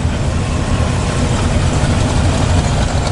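Car engines idle at a Cars & Coffee meet, a steady low rumble with no clear revs or changes, close and constant throughout with no talk.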